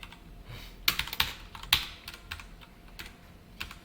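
Code being typed on a computer keyboard during a Java programming lesson, a run of quick, fairly close key clicks with a few sharper strokes, irregular in rhythm and heard alone without talk.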